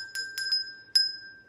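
A small hand bell rings several times in quick succession, bright metallic strikes that each leave a clear, sustained ring hanging between them, close and fairly loud with no voices.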